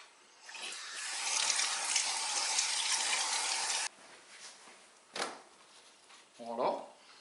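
Tap running hot water onto a cloth while making a natural sourdough starter, a steady close gush for about three seconds that then stops, followed by a couple of brief knocks and a short voice.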